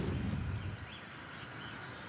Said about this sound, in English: Birds like that would be nice.